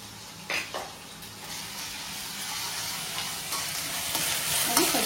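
Ginger-garlic paste frying in a pan, a continuous sizzling hiss with occasional stirring scrapes and a brief clatter of utensils near the start.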